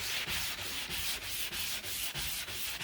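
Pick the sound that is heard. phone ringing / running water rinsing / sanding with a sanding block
sanding with a sanding block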